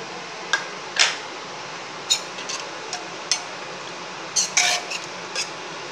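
A spoon stirs vegetable kurma in a metal cooking pot after coriander leaves are scattered on top, giving several sharp, close scrapes and clinks spread irregularly over a quiet background.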